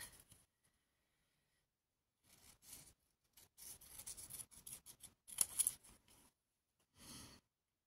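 Scissors cut paper for scrapbooking in short snipping bursts with quiet gaps between them, close and faint, with no one speaking.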